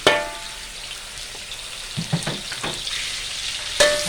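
Fermented soybean paste stir-fried with garlic in a pan, giving a constant sizzle with a few spatula scrapes and clinks toward the end, close by and without speech.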